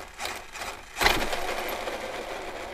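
A steering servo on a Traxxas Maxx RC car, fitted with a new motor and ESC, whirs into motion with a sudden burst, then keeps up a steady mechanical buzz. Close and fairly loud, with no voices.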